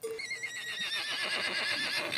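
A horse neighs loudly and close by in a long whinny that rises and wavers for about two seconds, heard alone in the countryside.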